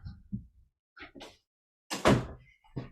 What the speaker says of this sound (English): Hold on, I forgot to close my door.